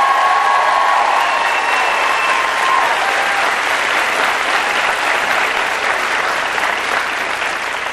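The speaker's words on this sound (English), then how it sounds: "I want everybody to please give Eileen and Bill Fonseca a huge round of applause." Loud, dense applause from a large crowd at a 2008 political rally in a high school in Malvern, Pennsylvania, sustained for several seconds with faint cheering mixed in, filling the space with no voice over it.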